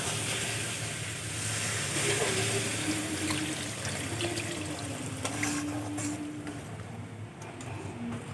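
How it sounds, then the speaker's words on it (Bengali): Water poured into a pan of green peas ghugni curry cooking with potatoes, a steady muffled splashing stream running throughout, close and fairly even in level. "এখন আমি পরিমাণ মতো জল দিয়ে দেব।"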